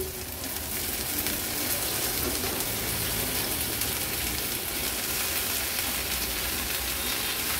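Finely chopped drumstick leaves hit a pan of cooked onions over a medium flame, producing a loud, steady, close sizzle that hisses evenly throughout without letting up.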